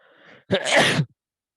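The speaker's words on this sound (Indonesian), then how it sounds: "Izin saya mau bersin dulu." A man gives a single loud, close sneeze during a religious lecture, a soft intake of breath leading into the sharp burst, followed by silence.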